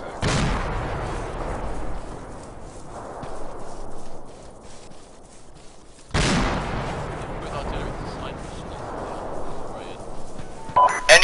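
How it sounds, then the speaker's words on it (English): Mortar shells landing during an Arma 2 multiplayer battle on Takistan: two heavy, booming impacts several seconds apart, each trailing off in a long rumbling decay, with a faint voice over radio chatter. "You have mortars landing behind you now."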